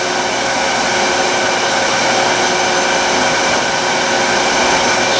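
A wood lathe spins at high speed while a cloth polishes the turning, producing a loud, steady whirring hum with a dense hiss that stays constant throughout, with no talking.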